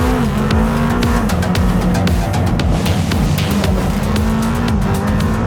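Audi race car accelerating at full throttle along a long straight, a loud, continuous engine roar with a steadily climbing pitch and dense mechanical harshness, heard close and without talk.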